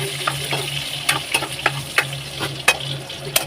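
Garlic fries in a pan for eggplant adobo, a close, steady sizzle punctuated by sharp, regular scrapes and taps of a spatula stirring it.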